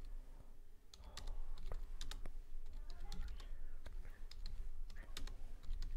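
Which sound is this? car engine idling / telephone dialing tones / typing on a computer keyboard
typing on a computer keyboard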